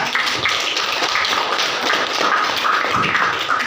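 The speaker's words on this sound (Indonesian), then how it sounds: "Beri aplaus untuk kelompok 3." Applause in a school classroom, a group clapping in a dense patter that holds steady throughout with small swells, fairly close and loud.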